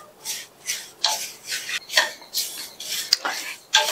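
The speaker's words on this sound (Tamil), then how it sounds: "மிதமான தீல வச்சு இந்த அவல் நல்லா மொறு மொறுன்னு வறுபடுற வரையும் வறுத்துக்கணும்" Flattened rice (aval) roasting in ghee over medium heat, a spatula scraping and tossing it around the pan in rhythmic gritty strokes, close and clear with no talking.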